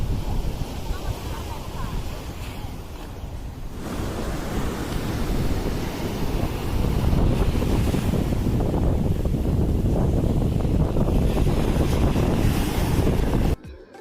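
Sea waves at Manapad beach in Tuticorin roar in a broad continuous wash, building louder after a few seconds, with heavy wind buffeting the microphone throughout.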